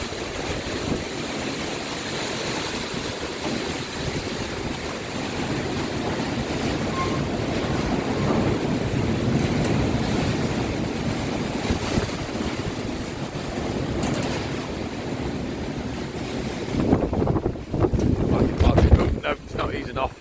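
Storm Eunice brings a constant roar of strong wind buffeting the microphone, with crashing waves and surging water beneath, loud and broadband throughout, swelling into heavier gusts toward the end.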